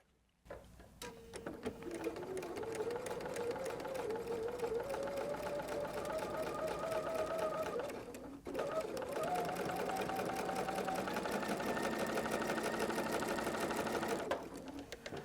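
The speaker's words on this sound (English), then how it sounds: "Now let's go sew that." A sewing machine stitches a seam on a log cabin-style quilt block, running steadily and close for most of the span with one brief pause midway before resuming at a slightly higher motor pitch.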